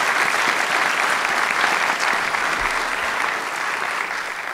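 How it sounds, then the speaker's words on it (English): An audience at a debate on the resurrection of Jesus claps in a sustained round of applause, dense and fairly loud throughout before easing slightly near the end. "round of applause for a difficult section there."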